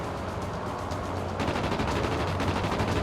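Rapid gunfire in the World of Warplanes aerial combat game, a dense sustained rattle of shots that grows louder and brighter partway through, with no talking.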